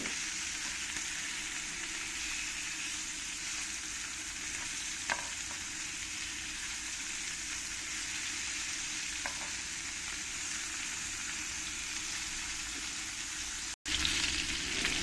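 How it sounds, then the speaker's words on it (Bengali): Pieces of katla fish fry in hot oil, giving a steady, dense sizzle that holds evenly throughout, broken by a couple of faint taps as the fish is gently turned and a brief dropout near the end. "এবার মাছগুলোকে আমি আস্তে আস্তে উল্টে দেব বেশি কড়া কড়া করে আমি ভাজবো না"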